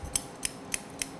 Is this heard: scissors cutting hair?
yes